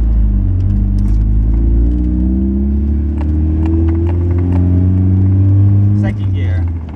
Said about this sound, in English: I'm just taking my car up the block.